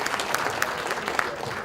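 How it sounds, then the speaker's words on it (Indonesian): Audience applause for the speakers at an Indonesian debate on the stock market under the presidential candidates, a steady dense clapping from a crowd that holds throughout. "mari kita memberikan aplaus yang sangat meriah kepada para narasumber debat"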